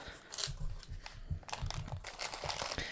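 Fruit Stripe gummy candy packaging is torn and crinkled open close by, with quiet irregular rustles, crackles and small taps over several seconds.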